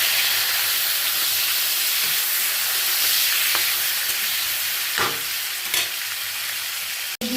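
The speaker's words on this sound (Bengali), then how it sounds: "মাছ তো বেশি ভাজবো না, জাস্ট ফাটিয়ে নেব।" Koi fish frying lightly in oil in a pan with a loud, steady sizzle and spatter. A few stirring scrapes sound up close, and a sharp clack comes at the end.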